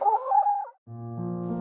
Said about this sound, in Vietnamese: con gà cứng đầu kia cuối cùng cũng đã mổ ngô